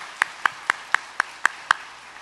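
Slow, evenly spaced claps during a Korean Sunday afternoon church service, seven crisp hand claps in a steady rhythm, fairly close and clear, with nothing else heard around them.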